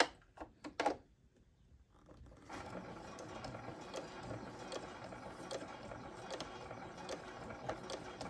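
A sewing machine stitches binding onto a quilt block design board, running as a steady, continuous mechanical whir after a few brief clicks and a short pause, close by with no talking.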